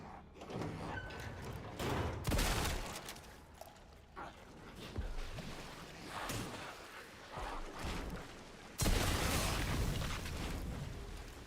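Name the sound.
explosion in Resident Evil Requiem video game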